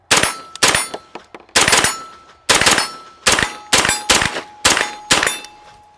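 A pistol caliber carbine with an Eotech optic fired at a range: about ten loud, sharp shots in an uneven string, some with ringing metallic target hits, close and without speech.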